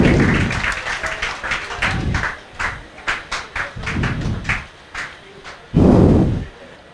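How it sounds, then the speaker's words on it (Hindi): An audience at a live class claps in several waves, bursts of scattered hand claps rising and falling with sharp individual claps between them. "जोरदार तालियां बजाइए भैया सभी लोग"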